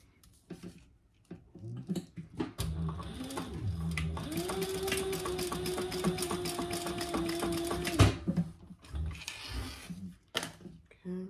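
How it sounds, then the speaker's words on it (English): A sewing machine top-stitches a Park Hopper tote bag, whirring steadily and close-up for about five seconds. Scattered handling clicks and taps come before and after the run. "then we're going to turn that over and top stitch"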